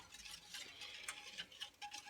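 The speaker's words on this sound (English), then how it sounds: "I'm sure you don't want to sit and watch me just stir this" Spoon stirring vanilla sauce for bread pudding in a pot, a soft irregular scraping and ticking close by, quiet and continuous with small clinks.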